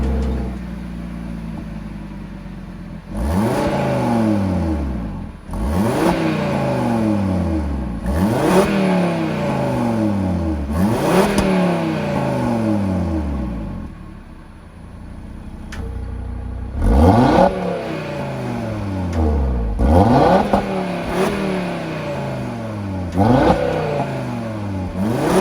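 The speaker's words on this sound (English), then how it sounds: "this little sound check, the exhaust of the RSQ3 Sportback" An Audi RS Q3 Sportback with an APR Stage 1 tune revs its exhaust repeatedly, each loud close blip rising sharply and falling away, with a short pause midway before another series of rhythmic revs.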